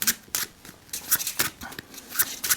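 A pack of playing cards being shuffled during a magic trick, giving a run of short crisp riffling bursts spread across a couple of seconds, close and fairly quiet, with no talking.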